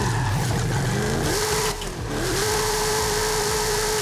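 A Hennessey Camaro Exorcist sports car engine roars and revs hard from a standstill, pitch climbing, dipping briefly at a gear change, then climbing again, loud and close.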